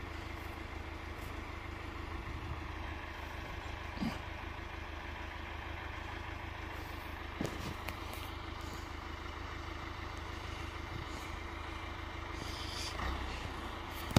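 A log skidder's diesel engine runs steadily at idle, a continuous low rumble with occasional small knocks and clanks, close by and alone with no talk.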